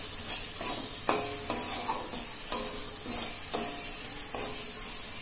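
Fried onion with salt, turmeric, chilli and cumin powder is stirred in a pan for samosa filling, a soft steady sizzle broken by periodic scraping strokes of the spoon, close and without talk.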